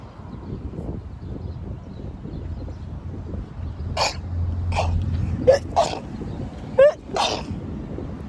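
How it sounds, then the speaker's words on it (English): A single person sneezes inside a Jeep parked overnight at an AutoZone, a sharp burst over quiet low road and cabin rumble, with a couple of other brief throat and breath noises around it. "That's what we were waiting on, that sneeze."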